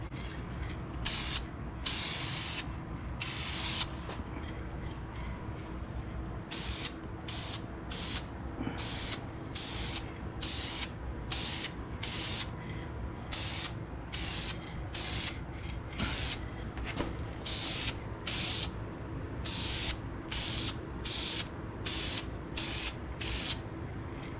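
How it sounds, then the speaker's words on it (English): Repeated short hissing bursts of a VHT high-temperature blue spray paint can coating brake calipers, many quick sprays in an irregular rhythm over a faint background, with no talking. "Get ready for spray."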